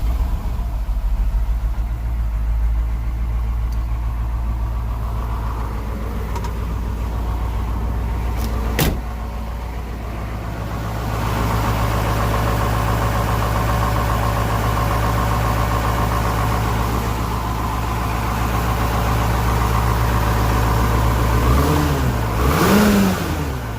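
A Detroit 8.2L diesel engine with misfire, smoking and loss of power idles steadily and runs close by, a continuous low rumble that rises briefly near the end, with no talking.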